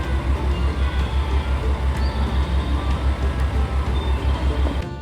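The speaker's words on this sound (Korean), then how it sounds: "디젤 동차 특유의 엔진음이 참 멋있는 것 같습니다" The engine of a KiHa 40 series diesel railcar idles at a station with a steady low rhythmic throb, close and loud, running continuously without speech.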